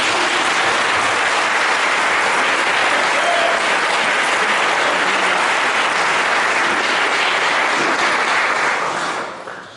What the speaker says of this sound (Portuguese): Então aplauda ao Senhor em nome de Jesus.